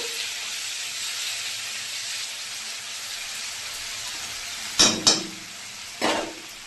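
Ginger, garlic and chili fry in oil alongside fish, giving a steady close sizzle broken by a few sharp clatters of stirring near the end, with no voices.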